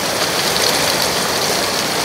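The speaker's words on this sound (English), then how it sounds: "you can really hear that it's raining pretty hard" Heavy rain pours down hard outdoors, a steady, loud, dense hiss of drops with no break and no voices.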